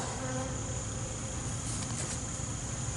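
A dense swarm of honeybees hums continuously in the morning during a mite treatment, a steady close buzzing drone with no pauses.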